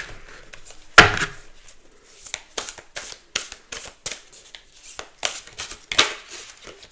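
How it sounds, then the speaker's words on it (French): Tarot cards being shuffled and drawn at a table, a sharp snap followed by a run of crisp, close papery flicks and slides in an irregular rhythm, with no voice. "On va tirer 2 cartes avec la connexion mystique"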